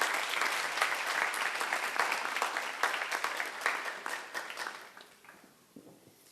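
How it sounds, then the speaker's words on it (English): Audience applause for families and parents at a high school spring band concert, dense crisp clapping from a large room that holds steady, then thins and fades out toward the end. "Please give a round of applause to your families and parents here."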